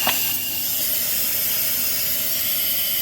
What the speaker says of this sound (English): We're gonna release the steam.